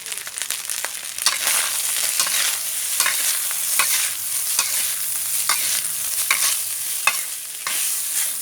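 Rice is stir-fried in oil for fried rice. A continuous close, loud sizzle carries rhythmic scraping and tossing strokes all the way through.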